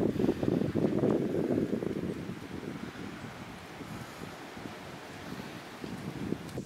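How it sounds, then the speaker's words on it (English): Strong gusty wind ahead of an approaching storm buffets an outdoor building site, a loud rumbling roar strongest at first and then easing into steady blustery noise. "There's a storm moving in. It's getting really windy."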